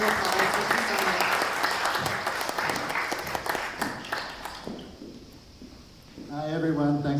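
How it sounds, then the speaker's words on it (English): Audience at an SF Climate Week investment panel applauding the panelists, a dense burst of clapping that thins and fades midway before a voice begins speaking near the end. "Give our panelists a round of applause."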